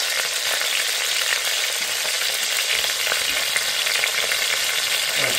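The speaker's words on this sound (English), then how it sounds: "the meat is searing very, very nicely" Meat sears in a pan for a Sunday tomato sauce, a steady, bright crackling sizzle that holds evenly close by with no voices.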